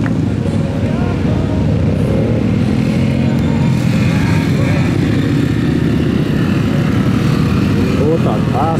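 A GEON Pantera 125 motorcycle idles and revs at the start line of a motogymkhana run, its engine droning steadily throughout amid loud outdoor crowd noise and nearby talking.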